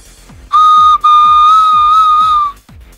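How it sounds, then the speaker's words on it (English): A homemade whistle made from a highlighter or pen gives two strong, steady high tones, a short blast followed by a longer sustained one, loud and alone. "You truly can make a whistle out of just about anything."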